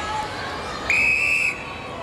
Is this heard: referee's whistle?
yes